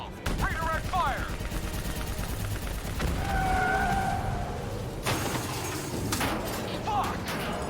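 Gunfire bursts from Call of Duty: Black Ops III combat, mixed with vehicle rumble, mechanical clanks and shouting voices over a dense, loud battle backdrop.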